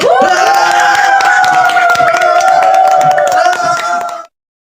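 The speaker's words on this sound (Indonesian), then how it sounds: "Dan rakyat pun memberikan sorakan dan tepuk tangan." Loud, dense clapping and cheering from the townsfolk of a village in a historical children's story play continuously over a sustained tonal backdrop for about four seconds, then cut off abruptly.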